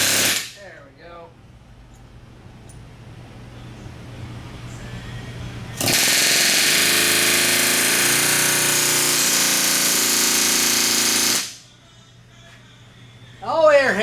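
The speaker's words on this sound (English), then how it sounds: "Oh, air hammers are cool." Pneumatic air hammer driving a Snap-on socket while working on a KTM 350XC-F dirt bike, a loud steady rattling burst of about six seconds that stops abruptly, with brief talk before and after.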